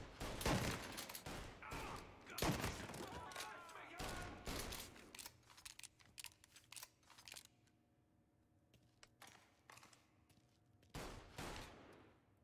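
Gunfire during a bank robbery in the Mafia video game: rapid bursts of shots, dense and loud at first, then sparser single cracks, with a voice shouting between volleys and a final flurry near the end.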